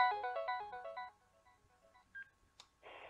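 A telephone rings with an incoming call, a quick melodic ringtone pattern repeating for about a second, followed by a few faint clicks and a brief burst of noise. Fairly quiet, with no speech.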